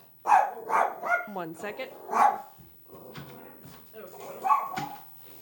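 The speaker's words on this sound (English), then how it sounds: "My dog is going to bark." A pet dog barks in a run of sharp, close barks, with a short whimpering yip among them. A person talks over and between the barks.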